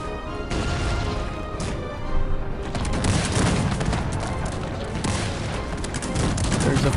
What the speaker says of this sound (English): So it is cannons that I need, huh?